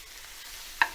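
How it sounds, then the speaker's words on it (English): Steady hiss of stir-fry vegetables sizzling in a hot pan, with a brief sharp clatter near the end. "And now we've got a nice good sizzle going with our veggies."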